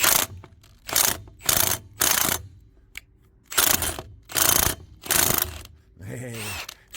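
A ratchet wrench works stuck wheel nuts loose on an RV: about seven close, loud bursts of rapid clicking separated by short pauses, and a brief voice near the end.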